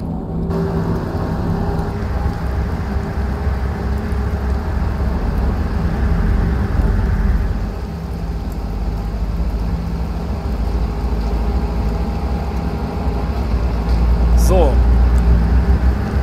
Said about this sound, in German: Ja, klingt auf jeden Fall schon mal nach Elektrolokomotive.